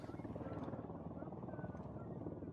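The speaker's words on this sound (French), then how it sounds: "Ouais, l'hélicoptère, il est là." A helicopter in the Ghost Recon Wildlands game thrums steadily with a low rotor drone, fairly quiet, under faint background talk.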